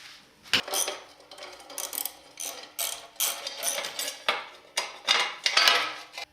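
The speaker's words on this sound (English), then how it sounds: "few bolts that I can remove with a 10mm ratchet" A 10mm ratchet loosens the skid plate bolts on a WR250 dirt bike: rapid, close, bright pawl clicking in repeated short bursts with small metallic clinks between strokes, and no talking.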